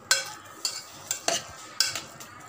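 A ladle stirs through thick cooked lentils and beetroot in a pot, with about five soft scraping strokes in a slow, regular rhythm, close by.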